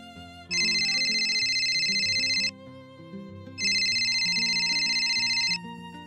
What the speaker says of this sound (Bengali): জয়ের ফোনটা বেজে ওঠে